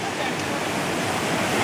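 Neergarh Waterfall near Rishikesh, India, pours down in a loud, continuous rushing roar of falling water heard close by, steady throughout with no voices.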